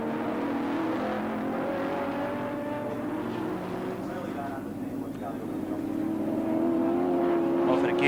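Touring cars race around Oran Park in the 1983 ATCC, including a Mazda RX-7 and a Holden Commodore, their engines droning steadily at a distance with a rising rev near the end, under continuous commentary.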